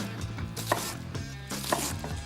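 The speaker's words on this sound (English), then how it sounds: "With the weight of the blade to cut through that onion to get to the base of the root" A kitchen knife chops down through an onion on a cutting board in two distinct, crisp strikes about a second apart, close and clear, with soft handling noises between.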